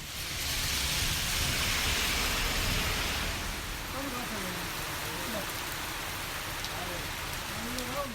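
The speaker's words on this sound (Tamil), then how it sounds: "பெங்களூரு ஊரக மாவட்டத்தில் உள்ள நிலமங்கலாவிலும் சூறைக்காற்றுடன் மழை பெய்தது." Heavy rain with gusty wind pours down in Nelamangala, Bengaluru Rural district, a dense, steady hiss throughout with faint voices emerging in the second half.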